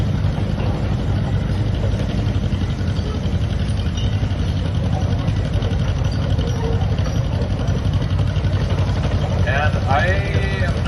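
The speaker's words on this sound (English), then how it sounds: "Here's a 1953 John Deere 40C owned by Josh Olson from Roseau." Low, steady engine idle from a 1953 John Deere 40C tractor at an outdoor show, a continuous rumble throughout with crowd and background voices mixed in.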